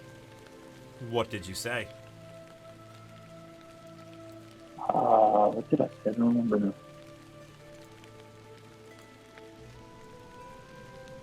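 Gentle rain patters softly and steadily as a constant background hiss, while people speak over it in short bursts of conversation.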